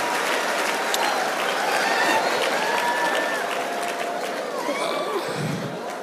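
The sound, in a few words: audience applause for the speaker's mother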